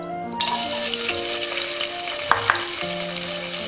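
Chopped large onion frying in hot oil with mustard seeds and clove for chana masala, a steady loud sizzle with occasional stirring clinks and crackles.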